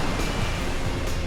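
Steady roar of Atlantic Ocean surf at Rockaway Beach, a broad continuous wash of breaking waves with some breezy wind noise and no voices.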